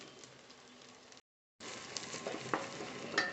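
Garlic, ginger and green chili sizzle steadily in a hot pan, a close, even frying hiss broken by a brief silent gap, with light stirring clicks afterward.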